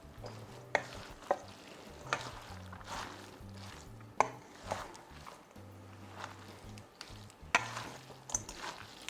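Arugula and tuna salad being tossed in a bowl, with soft rustling leaves and repeated light knocks of utensils against the bowl, close and fairly quiet, no voices.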